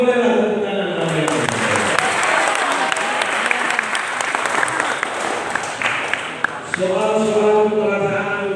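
A studio audience at a final round of a Qur'an knowledge quiz competition bursts into loud, sustained applause lasting several seconds, with voices and a tonal sound briefly heard before and after the clapping.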